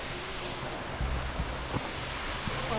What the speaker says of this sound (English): And we can now hear the waterfall coming up in front of us somewhere.